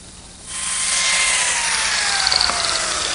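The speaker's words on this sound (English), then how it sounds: "Now I'll strengthen this joint with biscuits." A biscuit joiner spins up and cuts slots into a wooden miter joint for a decorative edge on a secretary desk, giving a loud, close, sustained high-pitched motor whine with a brief gritty cutting rasp.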